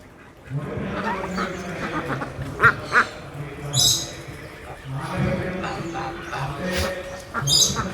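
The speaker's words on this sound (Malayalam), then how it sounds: "ഒരുപാട് താറാവുകളുണ്ട്" Ducks quack on a mixed farm raising foreign breeds, repeated nasal calls close by, mixed with other animal and background farm noise.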